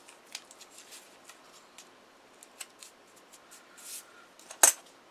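Masking tape rubbed and pressed along the length of a folding pocket saw blade, soft scattered rustles and light scrapes ending in a sharp tear of tape, close and quiet with no talk.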